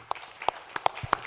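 A few sparse, scattered hand claps from a conference audience at a municipal infrastructure financing breakout session, quiet and uneven, just the opening of a round of applause for a panel.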